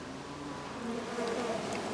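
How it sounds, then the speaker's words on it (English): Honey bees buzz steadily at a hive being requeened, a continuous low drone of many insects with occasional louder passes close by. "These bees are in really good shape."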